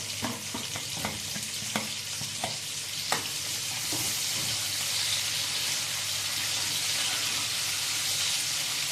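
Raw onion frying in melted ghee and oil, a steady bright sizzle with a few stirring scrapes and knocks early on, then an even hiss continuing alone.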